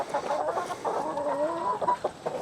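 Hens cluck inside a chicken coop run with a stretch of close, chattering clucks and short calls, without any talking.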